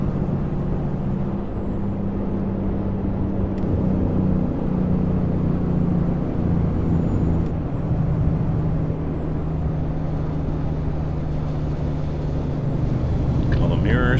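Mack Anthem truck in American Truck Simulator cruising at highway speed around 63–65 mph with the engine near 2,000 RPM, a steady loud drone of engine and road noise running throughout with no break.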